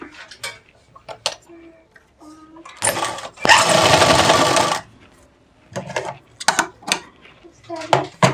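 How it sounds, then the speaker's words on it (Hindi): A sewing machine stitches around a round neckline, giving one loud burst of whirring about two seconds long in the middle, with someone talking before and after it. "एक तरफ इस तरह से सिलाई लगाएंगे ताकि गला आपका इधर उधर ना हिले।"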